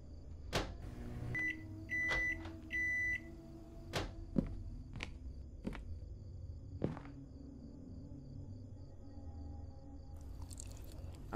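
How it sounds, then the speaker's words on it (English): A microwave oven in a horror game runs with a steady hum, with several short beeps near the start and scattered clicks and clunks as the door and food are handled. "Gotta microwave it."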